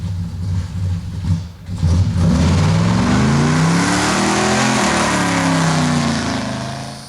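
A 1970 Pontiac with a Turbo 400 automatic transmission pulls away hard from a standstill, its engine roaring and rising steadily in pitch, loud and sustained for several seconds before easing slightly at the end.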